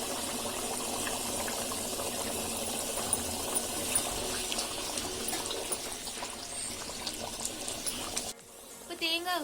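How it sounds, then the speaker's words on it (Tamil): Coconut paste goes into a boiling banana flower curry, with a steady loud bubbling, sizzling wash of liquid throughout and a brief stir-like change near the end, under a voice talking. "இப்போ தேங்காய் விழுது சேர்த்துக்கலாம்."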